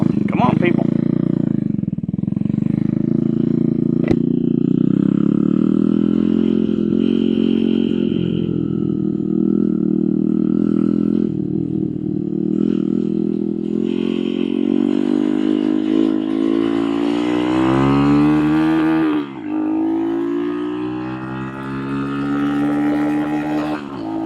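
The Nibbi PE26 nitro engine of an RPS Racer RC car runs at idle, a buzzing two-stroke drone that wavers in pitch, then revs up briefly before settling back, close and loud, with talk over it.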